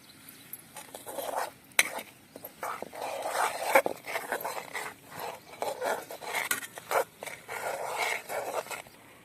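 A spoon stirs and scrapes ground chili and peanut paste being sautéed in a pan, giving irregular close scraping strokes with a faint sizzle throughout.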